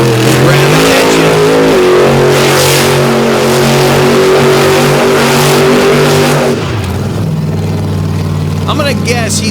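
Loud heavy truck engine at a truck show revs hard and holds a droning, harmonic-rich roar, then drops in pitch as it eases off, close and dominant throughout.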